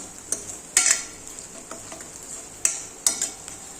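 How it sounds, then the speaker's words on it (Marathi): Onion and coconut roasting in oil in a pan: a low steady sizzle broken by several sharp spatula clinks and scrapes against the metal. "पाहू शकता कांदा आणि खोबरं छान भाजलेलं आहे तेल सुटलंय"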